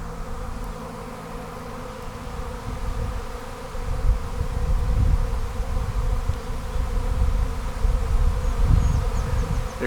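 A honey bee swarm buzzes continuously in a high-pitched, dense drone, the scattered insects close by and swelling somewhat louder partway through, with no talking.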